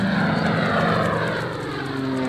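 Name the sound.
aeroplane flying sound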